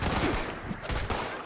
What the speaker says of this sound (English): We need to work out what the one with the machine gun is.